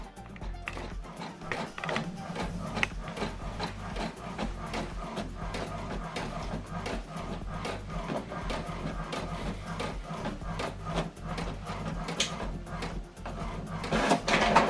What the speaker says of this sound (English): So we are printing this now from HP Smart App, and the document is printing.